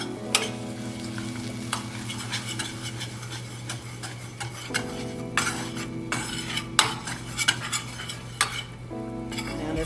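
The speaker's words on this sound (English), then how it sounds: "bechamel is equal part butter and flour. And we're just gonna cook this till we get this flour taste off" A whisk stirs a butter and flour roux for béchamel in a pan, with steady ticking metal strokes over a soft sizzle, close and alone without speech.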